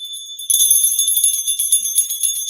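A small bell rings out at a spiritual botanica shop. Bright, sustained metallic tones start after a short pause and shimmer on steadily at close range, with no talking over them.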